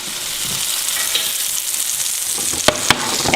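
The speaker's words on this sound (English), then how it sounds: "We're going to get this in the skillet, start letting it melt." Butter melts in a skillet for French toast with a steady, bright sizzle and crackle, close and continuous, with a couple of quick scraping taps near the end.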